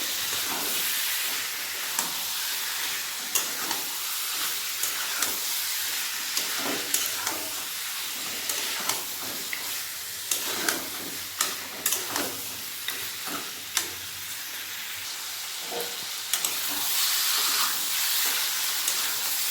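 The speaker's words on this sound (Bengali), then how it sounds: "ধুয়ে রাখা খাসির মাংস দিয়ে দেবো মাংস মশলার সাথে ভালো করে কষিয়ে নেবো" Mutton pieces sautéed with spices in a pan, a continuous broad sizzling hiss broken by frequent sharp scraping clicks of stirring, close and steady throughout with no voices.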